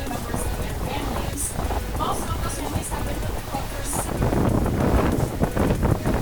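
Wind buffets the open upper deck of a mail-jumper tour boat on Lake Geneva, Wisconsin, a steady close rushing and rumbling that swells louder toward the end.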